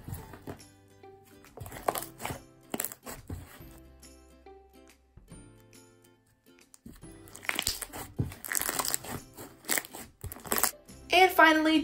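Crunchy fishbowl beads being mixed into a soft homemade slime, giving sharp crackling and squishing bursts that come and go, densest near the end, loud and close with no speech.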